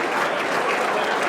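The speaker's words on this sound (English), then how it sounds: "Yes, a round of applause for Sodexo." Crowd at a Hall of Fame ceremony dinner clapping for the catering staff, a brief, dense burst of applause at fairly close range with faint voices mixed in.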